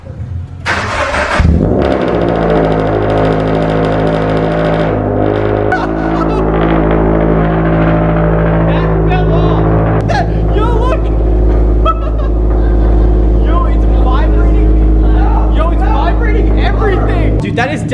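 A car fitted with a new Greddy Evo GT exhaust starts up, its loud, steady rumbling idle filling the space up close, with people talking over it throughout.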